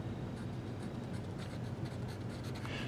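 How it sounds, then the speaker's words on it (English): A short word being written by hand while working a math problem about weight on Earth, with faint scratchy pen strokes over a steady low background hum. "I'm just going to write Earth."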